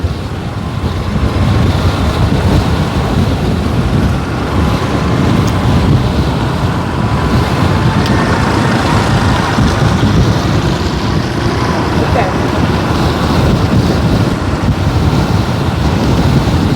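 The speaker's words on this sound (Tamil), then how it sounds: "இங்கே கடலை பாருங்கள் கடலை பார்த்தாலும் தெரியும் எப்படி கடல் ரோட்டுக்கு மேலே வருதுண்டு" Rough sea waves surge over the bridge road at Karainagar in strong wind, a loud, continuous roar of surf and wind buffeting the microphone with no break.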